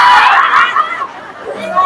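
A crowd of women gathered at a mosque for a Maulid Nabi celebration, chattering and calling out together in a loud, dense burst of many voices that dips briefly and swells again.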